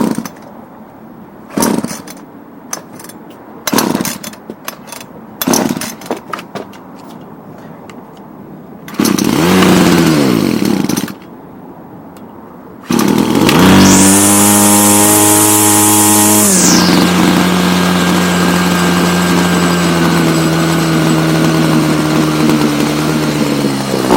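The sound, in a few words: Ryobi CS26 weed wacker engine running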